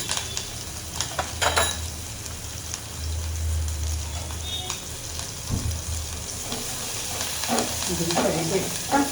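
Green chilies fry in a pan with a continuous close sizzle, broken by stirring scrapes and clatters throughout.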